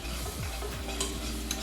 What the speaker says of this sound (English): use your gravy whisk